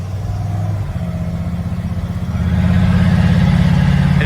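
A 1972 Ford F100 pickup with a 360 engine accelerates on an open road, its exhaust a loud, deep, throbbing drone that swells noticeably louder and rougher partway through.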